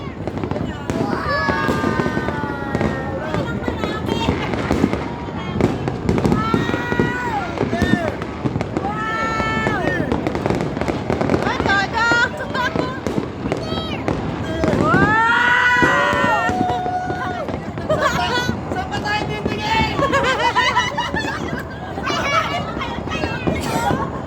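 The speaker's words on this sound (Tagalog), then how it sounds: "tayo may-ari ng lahat ng paputok" New Year fireworks burst over Batangas in dense, continuous volleys of crackling pops and bangs, near and far, with excited voices and crowd chatter mixed in.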